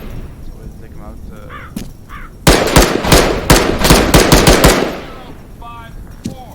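Arma 3 gunfire: a sudden burst of rapid automatic shots follows a quieter stretch, loud and close, with voices talking around it.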